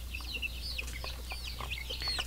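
Young chicks, pure Basilan native chickens being raised for free range, peep and cheep softly in a quick scatter of high calls over a low steady background hum, with no one speaking.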